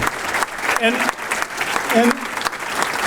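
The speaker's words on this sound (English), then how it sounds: "we would like to give you a round of applause for serving" Guests at an annual club dinner applaud newly introduced board directors, a broad patter of clapping with brief cheers or voices rising through it.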